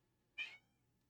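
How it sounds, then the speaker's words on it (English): A single short, faint meow from a cat, brief and alone against a quiet background. "She's just sitting here going, meow, meow, meow."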